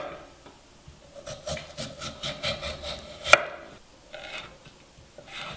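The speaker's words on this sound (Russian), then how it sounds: "Теперь нарезаем морковь. Морковь буду нарезать кубиком." Carrot being cut with a knife on a board into flat slabs, a quick run of close, dry wooden chops and slicing rubs followed by a few scattered cuts, with no talking.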